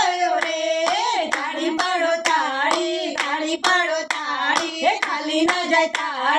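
Rhythmic hand clapping keeping time with a sung Gujarati devotional kirtan, regular loud claps under the singing voices.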